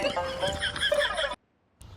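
A horse neighs in the PUBG video game on the Miramar map, a loud whinny of about a second and a quarter that breaks off into silence before a short burst of sound returns.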